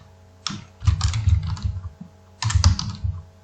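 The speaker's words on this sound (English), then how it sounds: "I am going to type James" Typing on a computer keyboard while entering names into a Microsoft Excel spreadsheet, two bursts of rapid, close key clatter separated by a brief pause, with no talking.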